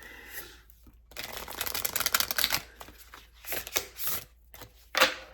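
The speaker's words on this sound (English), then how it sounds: "it is a good deck to shuffle" Oracle cards riffled and shuffled in quick, papery bursts with short pauses between, close by and fairly soft.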